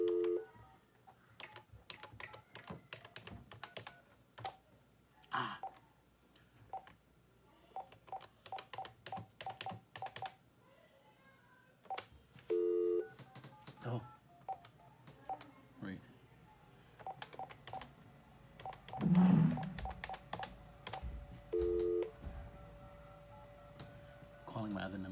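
An RCA by Telefield phone sounds dialing tones, with clusters of rapid short beeps and a few longer tones spread over the stretch, mixed with button clicks and a person talking intermittently nearby.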